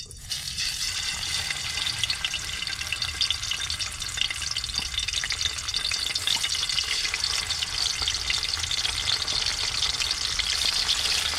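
Galunggong fish frying in a hot pan, a loud, dense, continuous crackling sizzle close up, with no voices.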